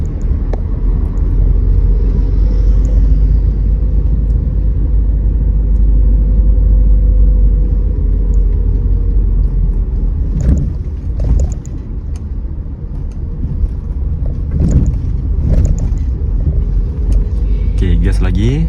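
Manual-transmission car accelerating on a public road during a first-day driving lesson, a steady low engine rumble filling the cabin throughout with brief bumps and clicks, while people talk inside the car.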